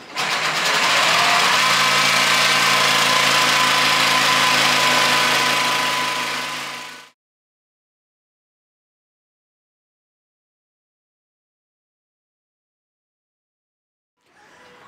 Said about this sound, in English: We can go ahead and take our saws or jigsaw and go ahead and cut out our pattern